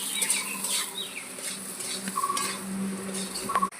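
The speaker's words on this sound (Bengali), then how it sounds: "ভালো করে একটু ভেজে নেবো" Chara pona fish and a few green chillies fry in a pan as a metal utensil stirs and clinks against it, with light sizzling under close, busy scraping and tapping, and no talking.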